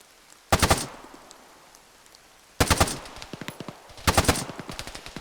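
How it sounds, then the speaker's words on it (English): Suppressing gunfire in a military video game: three loud, close bursts of rapid automatic shots, each a quick rattling volley followed by fading echoing cracks, with quiet gaps between them. "just put out some fucking suppressing fire"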